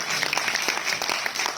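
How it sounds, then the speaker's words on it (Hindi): Dense, steady applause from an audience at an award show in Jaipur, many hands clapping together at a loud, even level throughout with no pauses. "एक बार जोरदार तालियां अपने लिए हम लोग कर लेते हैं"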